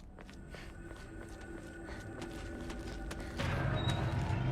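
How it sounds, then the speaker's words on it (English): Footsteps of another player in a survival video game, a steady run of soft, evenly spaced steps over a low ambient hum, growing slightly louder toward the end with no talking. "Those aren't my footsteps, those are yours."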